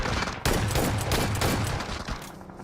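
Shotgun blasts ring out in the PUBG Mobile video game, a dense run of loud, sharp gunfire reports packed close together for a couple of seconds with no talk over them.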